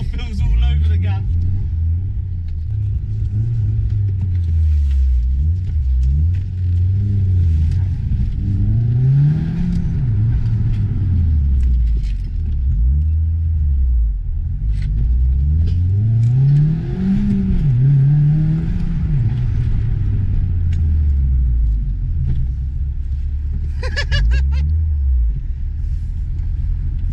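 An old, rusty car with a fuel leak, driven in four-wheel drive, its engine droning and rising and falling repeatedly through gear changes, loud and close inside the cabin, with someone talking at times.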